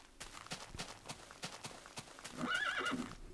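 A brown horse in the video game Minecraft, modded with Fossil & Archeology, clip-clops in a steady run of hoof taps, then lets out a short, bright neigh near the end.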